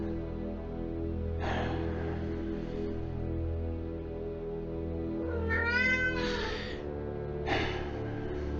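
Several drawn-out cat meows from the video game Alfred Hitchcock Vertigo, one long wavering cry in the middle, over a steady low hum of game music.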